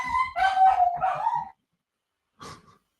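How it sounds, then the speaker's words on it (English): A dog gives a burst of excited, howling barks up close, loud and high-pitched for about a second and a half, then one short yelp after a pause. "The dog just went crazy there."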